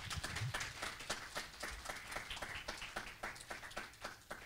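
A church congregation claps by hand in a steady, fairly quick rhythm, with crisp, even claps that carry on throughout and no talking over them.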